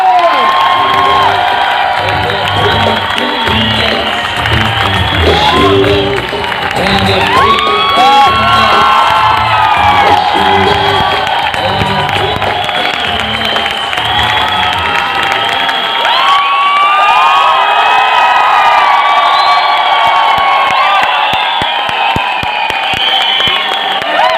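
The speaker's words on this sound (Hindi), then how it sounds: "तो जोरदार ताली से शिवम गोस्वामी गुरु, कम ऑन एवरीवन" An audience at a youth event cheers, whoops and claps loudly as one continuous roar of crowd noise that carries through to the end.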